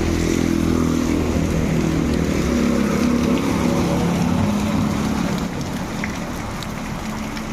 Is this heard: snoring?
no